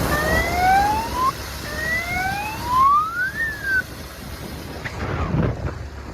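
A police-style siren wails from a motorcycle in Kolhapur, rising tones sweeping upward and then falling back, fairly loud over traffic and wind noise, with engine rumble toward the end.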